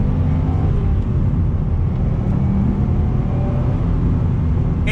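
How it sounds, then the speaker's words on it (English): Steady, loud cabin drone from a turbocharged Subaru WRX STI Type RA with all-wheel drive pulling under throttle, a dense, even engine and road roar throughout with no talking. "let's see how the Type RA does on throttle"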